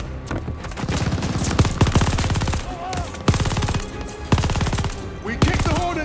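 Sustained bursts of MG82 machine gun fire in the Call of Duty: Vanguard video game, loud and close, with rapid rhythmic shots in several long volleys broken by brief pauses, over a busy battle backdrop.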